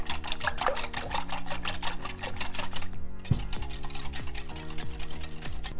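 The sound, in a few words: whisking egg and vanilla extract in a bowl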